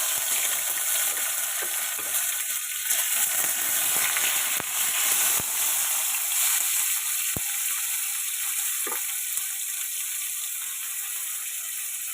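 Chopped tomatoes hit hot oil in a pan after potatoes were fried and whole spices tempered for a pointed gourd ghonto, giving a steady, close hiss of frying with a few clicks and stirring scrapes, no talk.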